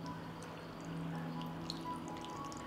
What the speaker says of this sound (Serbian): Sipat ću vodu u teglu.